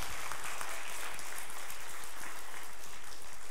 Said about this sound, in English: Can we give Nick a round of applause for helping to organize them?